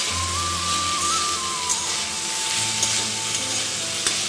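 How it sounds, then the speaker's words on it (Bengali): Soybean chunks and potatoes fry in a steel wok, making a continuous close sizzle with faint stirring under it. A thin steady tone hums in the background, and nobody speaks. "এখানে সোয়াবিন আলুটা ভেজে নিচ্ছি।"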